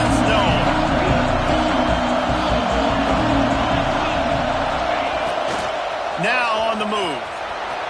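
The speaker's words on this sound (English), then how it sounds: "This crowd ready to make its presence known." Stadium crowd roar from a Madden football video game on PS5, a steady loud wash of cheering with a rising swell and whoops near the end, mixed under commentary-style talk.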